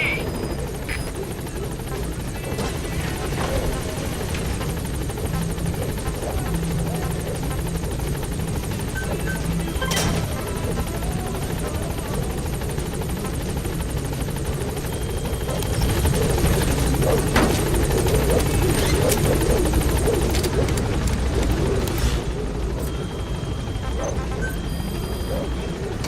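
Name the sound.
Pequod helicopter arriving in Metal Gear Solid V video game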